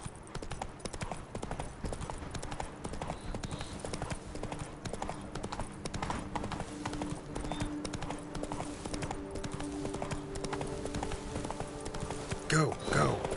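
The horse Roach galloping in The Witcher 3, with rapid rhythmic hoofbeats pounding steadily throughout and a voice speaking briefly over the gallop.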